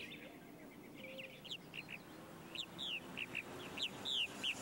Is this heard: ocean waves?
no